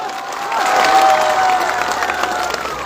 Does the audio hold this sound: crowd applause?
yes